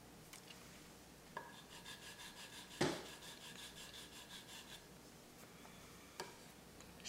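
A charcoal pencil rubs and rasps across paper in quiet, steady strokes close up, with a few sharper taps and one louder scratch partway through.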